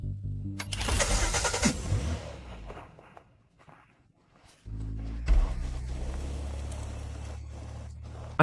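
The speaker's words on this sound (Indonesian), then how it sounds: "Mobilnya mulai bergerak. Kenapa mobil ini bisa bergerak sendiri?" A car engine cranks and catches, then drops to near quiet for a moment before a strong, steady engine rumble resumes as the vehicle moves off. The car starts and rolls away by itself, with a few scattered mechanical clicks.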